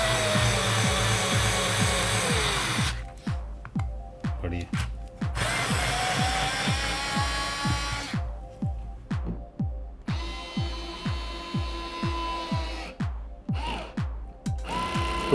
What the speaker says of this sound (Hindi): तो आप देख सकते हो यहाँ पर जो गियर है वो स्लिप करने लग जा रहे हैं।